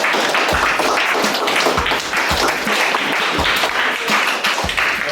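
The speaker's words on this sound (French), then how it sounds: "On peut l'applaudir!" Audience applause for an award winner at a school sports gala prize ceremony, loud dense clapping sustained throughout with a few sharper individual claps standing out.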